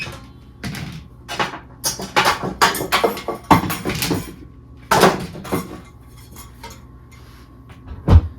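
A small pan pulled out in a home kitchen, with repeated metallic clanks, clinks and rattles of cookware being shifted, loud and close, then a pause and one final bang.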